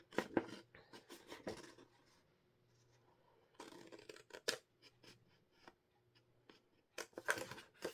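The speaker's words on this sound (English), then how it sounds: "So I'm going to fussy cut around this just roughly" Scissors snip through fabric in close, crisp bursts of cutting and rustling, with quiet pauses between the clusters of snips.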